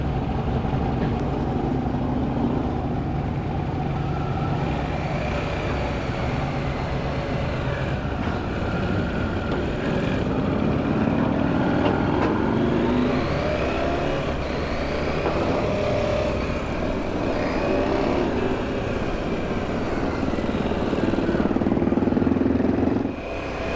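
A car rolls off a ferry with a steady, loud engine rumble and road noise that hold for the whole stretch, shifting a little as it moves, with no talking.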